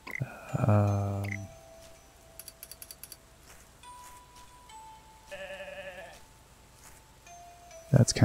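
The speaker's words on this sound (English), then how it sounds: "Look at the black sheep there." A black sheep, a ram, bleats in the Garden Paws video game: one loud, drawn-out bleat near the start, then a softer second bleat midway, with light game ticks and chimes between them.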